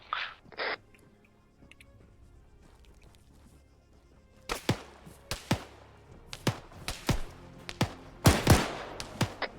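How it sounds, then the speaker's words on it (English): Gunfire in the military video game Arma 3: after a quiet start, sharp shots crack out at an irregular pace from about halfway through, some in quick pairs, and they get louder toward the end. "Shots east to west."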